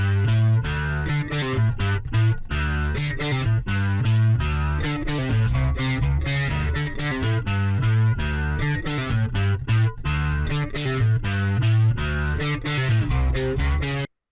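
A bass guitar played through a Berserker Electronics Prehistoric pedal, drive turned up to about two or three o'clock, gives a gritty distorted tone with biting attack, plucked in a steady rhythmic riff of repeated notes, close and loud throughout.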